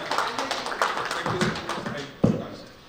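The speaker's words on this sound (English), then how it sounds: "give a big round of applause to them" Audience applause for panel moderators after an online assessment technology panel, a few seconds of uneven clapping with one sharp louder clap near the end before fading.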